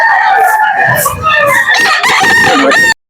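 A rooster crows loudly and close, a long strained call lasting a few seconds before cutting off abruptly.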